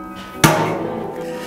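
A hammer strikes an egg once, a single sharp, loud knock followed by a brief ringing decay that fades into quiet.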